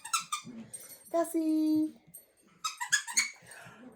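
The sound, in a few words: dog playing with a toy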